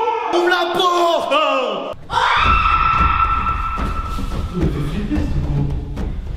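People scream loudly indoors in a villa during a giant hide-and-seek game, with shrill yells and gasps breaking out, a brief pause, then sustained close, loud shrieking mixed with shouting voices.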